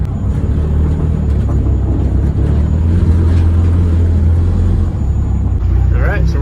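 A Honda Civic rolls onto a truck scale with a steady low engine rumble and road drone, close and loud.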